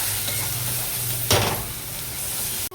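Spatula stirring tomatoes through hot spiced oil in a kadai, a steady sizzle running throughout with one sharp scraping burst midway, close and loud, with no talking.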